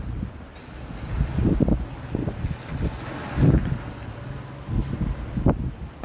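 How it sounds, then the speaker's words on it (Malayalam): Strong wind buffets the microphone in rumbling gusts that rise and fall, a steady roar with no voices. "നല്ല കാറ്റുണ്ട്"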